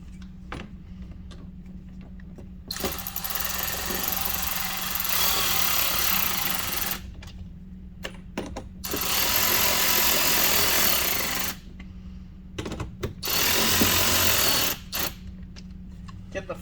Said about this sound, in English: We're just screwing these back into the factory holes.